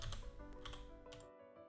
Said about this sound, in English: start typing in the name of the application